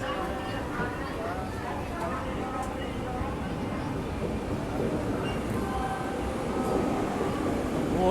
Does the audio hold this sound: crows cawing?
no